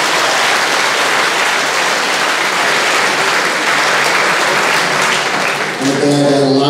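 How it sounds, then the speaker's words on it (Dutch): Applause at a mavo diploma ceremony at Hoeksch Lyceum, a dense, steady wash of many clapping hands filling the room, with a voice starting to speak just as it ends. "Applaus."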